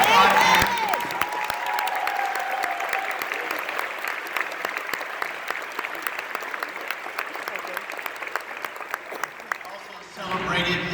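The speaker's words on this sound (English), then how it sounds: "deserves a round of applause" Sustained applause from a crowd, steady clapping for about ten seconds before it cuts off, with a brief murmur at the end.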